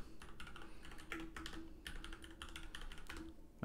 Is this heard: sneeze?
no